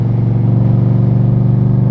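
Steady, loud motorcycle engine drone while riding on a moto vlog ride, a constant close hum with slight rhythmic pulsing and no revving peaks.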